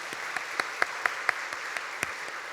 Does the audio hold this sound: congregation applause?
yes